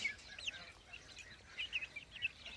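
Tiny American ducklings on a village farm give soft, high chirps in quick scattered bursts, fairly faint against a quiet background.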